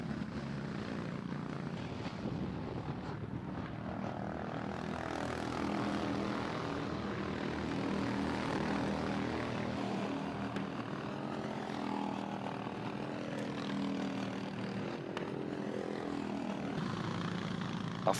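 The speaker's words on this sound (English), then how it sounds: "Our front 3 karts pulling away from the rest of the pack." A pack of Sprint 390 racing karts drones past on a circuit during a race, a continuous buzzing engine roar that swells and shifts in pitch as several karts pass together at moderate distance.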